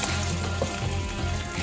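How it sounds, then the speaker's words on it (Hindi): Paneer stir-frying in a tablespoon of hot oil in a pot, a dense continuous sizzle that stays loud and even throughout. "पहले हम लोग पनीर थोड़ा स्टिर फ्राई के जैसा कर रहे हैं, ऑयल में कलर आ जाता अच्छे से।"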